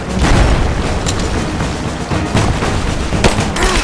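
Gunfire and a grenade blast in the video game Rise of the Tomb Raider: dense, continuous rumbling booms with sharp cracks of shots layered through a loud combat scene, with no talking.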